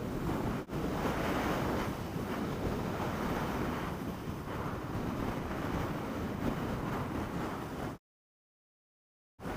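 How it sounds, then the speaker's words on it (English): Steady, heavy wind roar buffeting the microphone while riding a Yamaha MT-07 motorcycle at about 65, broadband and loud throughout, cutting briefly to silence near the end. "I can hear the wind noise over the engine"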